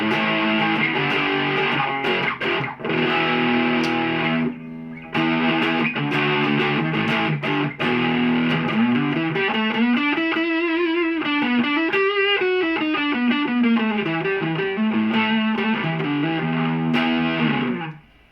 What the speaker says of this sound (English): We're going to kick in some distortion.